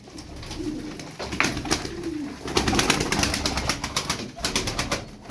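Pigeons coo steadily in a close, busy chorus, their low throaty calls overlapping with rustling and fluttering noises.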